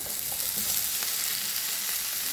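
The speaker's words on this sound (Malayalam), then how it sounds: "ഉള്ളി ഒന്ന് വഴണ്ടിട്ടുണ്ട്, ഒന്ന് മൂത്ത് വന്നിട്ടുണ്ട്." Onions, green chilli and curry leaves fry in hot coconut oil, a steady, close, hissing sizzle with faint crackles.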